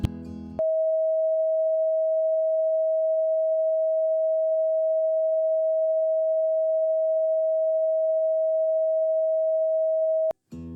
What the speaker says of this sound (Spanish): La cuarta frecuencia, Fa, 639 Hz, es la frecuencia del amor y la unidad.